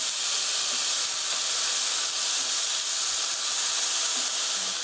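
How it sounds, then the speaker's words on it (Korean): Onion and paprika stir-fried in a pan for a fettuccine alfredo sauce, giving a constant bright sizzling hiss that holds evenly throughout with a few faint stirring taps, close, with no voices. "넣어서 stir fry 3미닛 3분 정도 볶아주세요."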